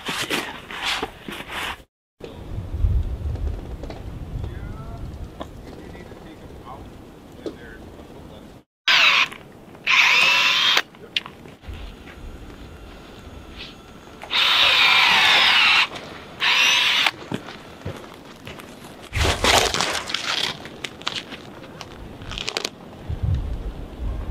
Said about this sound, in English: those sounds, the drill, the pause,